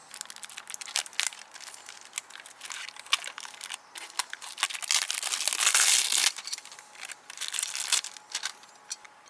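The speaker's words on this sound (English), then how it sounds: "They went ahead and actually wrapped it in a plastic wrap, so I'm going to go get this unwrapped" Close, continuous crinkling and crackling of plastic wrap being pulled and crumpled off an airsoft pistol slide, in irregular bursts with a louder stretch of rustling near the middle and no talking.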